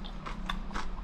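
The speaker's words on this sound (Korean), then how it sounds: "그래도 오이 막 무친 거니까 오이부터 먹어봐야지." Freshly seasoned raw cucumber salad bitten and chewed up close, a few crisp crunchy bites spaced through a short moment over a low steady background hum.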